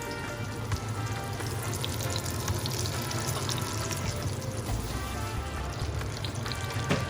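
Fish frying in a pan, a steady close sizzle and crackle of hot oil that holds evenly throughout with no talking.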